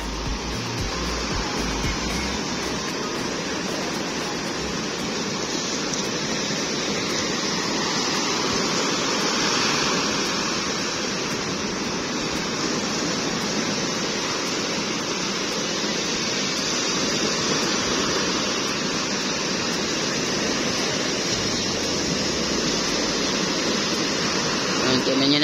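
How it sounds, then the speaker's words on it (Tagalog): Large ocean waves roar as a steady, dense wash of surf that holds at a constant loud level throughout, with no distinct breaks between swells. "kasi malalaki talagang alon"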